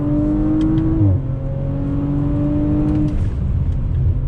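A 2019 Audi RS5 engine pulling hard under acceleration, its rising whine dropping at a gear change near one second and again around three seconds, heard from inside the car with steady road roar and no talking.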